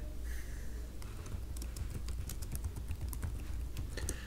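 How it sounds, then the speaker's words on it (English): Rapid clicking of a computer keyboard during typing, a steady irregular patter of sharp keystrokes close to the microphone over a low background hum, with a game soundtrack faintly underneath. "Sorry about the keyboard clicking."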